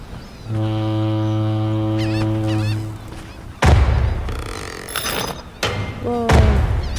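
Voices in an a cappella vocal group mimic seagull cries, giving short wavering squawks over sustained sung chords, then brighter gull-like calls between heavy bursts of sound.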